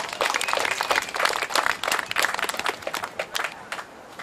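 A crowd applauds at a log-splitting contest at Anianpelto market in Asikkala, dense clapping that swells and then thins out toward the end, fairly close and without any talk over it.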